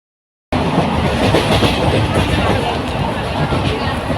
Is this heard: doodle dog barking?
no